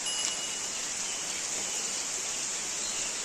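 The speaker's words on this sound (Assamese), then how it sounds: "এইফালে বৰষুণ দি আছে।" Steady rain falls in a dense, even hiss that stays constant and close, no voices.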